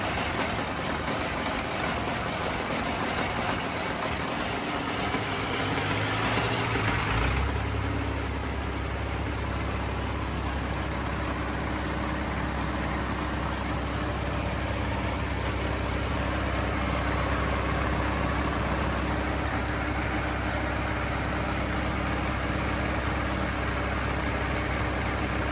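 A vintage Caterpillar D4 dozer's engine runs loud and close, a dense, steady low rumble that deepens and strengthens partway through, then holds a constant heavy drone.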